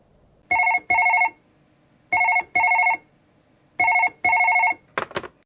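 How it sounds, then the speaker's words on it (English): A telephone rings for an incoming scam call, three pairs of electronic double-bursts at an even pace, loud and alone, followed by a short clatter as the handset is picked up. "Have a listen to this phone call."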